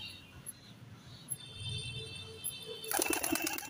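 A Madras pigeon is let go and flaps off, a burst of wingbeats rising suddenly near the end after a quiet stretch of faint background chirps.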